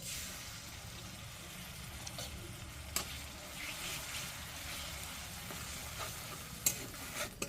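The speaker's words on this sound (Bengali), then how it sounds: "তো এখানে আমি নিয়েছি পেঁয়াজ বাটা আর কাঁচা লঙ্কা বাটা, বিশেষ কিছু নিই নাই। যা আমরা এবার একটু হালকা করে ভেজে নেব।" Onion paste and green chilli paste frying gently in oil, a soft steady sizzle with stirring, a few faint clinks along the way, no voices.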